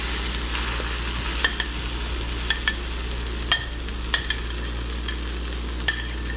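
Keto chaffle batter cooks in a waffle maker sprayed with coconut oil, a soft continuous sizzle broken by a few sharp clicks and taps, close by with no speech.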